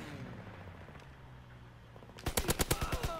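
A Grease Gun submachine gun from the video game Call of Duty: WWII fires a short burst of about eight rapid, punchy shots, loud and close, after two seconds of quiet in-game ambience.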